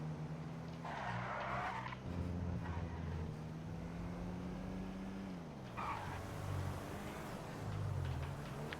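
A car skidding in the video game GTA Online, with a steady engine drone and repeated long tire squeals that rise and fall over several seconds, loud and close.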